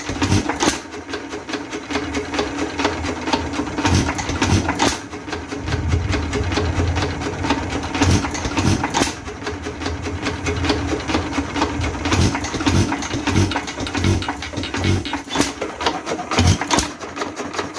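A vintage Associated Chore Boy hit-and-miss engine running in a barn, a loud close steady rhythm of sharp mechanical knocks and clonks repeating roughly every second, with no talk.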